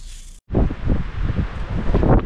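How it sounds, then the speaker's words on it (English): Strong wind buffets the microphone outdoors during turkey season, a loud, gusty roar that breaks off for a moment and then surges back. "it's getting really windy"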